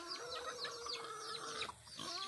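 Backyard chickens cluck and call repeatedly at close range, several birds overlapping in busy, rhythmic bursts while being fed.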